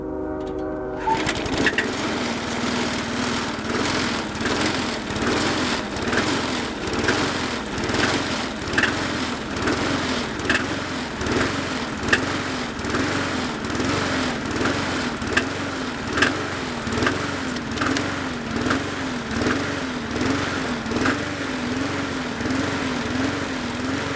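Murray 20-inch push mower's small petrol engine catching after a brief start and then running steadily, a loud, close, continuous buzzing drone with a rhythmic pulsing throb throughout, no talk.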